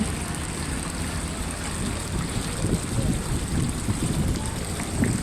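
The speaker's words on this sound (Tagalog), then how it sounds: "Grabe, lakas ng hangin." Gusty wind buffets and rumbles across the microphone in uneven bursts, over a constant background hiss.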